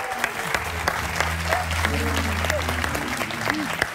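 A studio audience applauds for Dilek's shirt during a game-show style contest, a moderate burst of clapping with a low hum beneath and brief voices mixed in.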